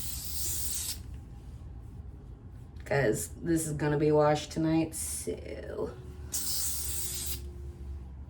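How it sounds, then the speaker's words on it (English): Hairspray hisses from an aerosol can onto hair in short bursts, one at the start and another near the end, while someone talks quietly in between. "so I'm just going to spray with my hairspray"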